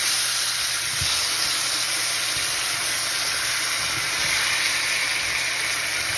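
Large kwikwi fish frying in a pot before chayote and broth are added, giving a steady, loud, continuous sizzle with no talk over it.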